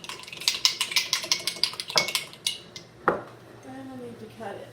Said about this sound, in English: I'm gonna stir mine a little bit.